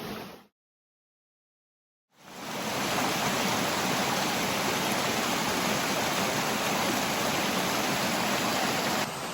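A creek flows in a steady, even rush of water, constant and fairly close, after a brief silent gap at the start.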